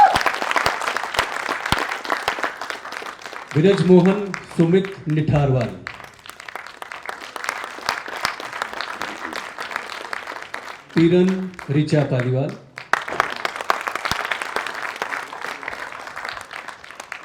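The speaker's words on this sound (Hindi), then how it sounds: "जोरदार ताली स्वागत करें।" Audience applause for cast members at a stage play, bursts of clapping fill the hall between announcements, with a voice calling out names over two brief pauses.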